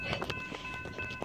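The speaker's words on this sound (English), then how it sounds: "Get ready for an Amtrak train." An Amtrak Cascades passenger train rumbling past nearby with rhythmic wheel clatter and a steady steely hum, moderately loud and continuous.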